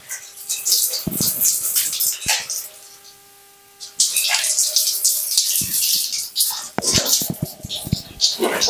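Water runs and splashes while someone bathes from a low-pressure tank supply, coming in uneven splashy bursts with a brief quieter pause, and a voice speaks softly now and then.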